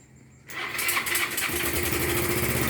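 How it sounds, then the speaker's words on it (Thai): A Yamaha Mio 125 scooter engine starts up after a quiet moment, then runs steadily at a fast, sputtering idle, close and loud. "จะเห็นว่าเครื่องยนต์ก็ทำงานปกตินะครับ"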